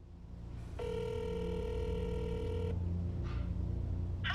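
A telephone ring tone sounds steadily for about two seconds, a bright electronic ring standing out over a low background hum.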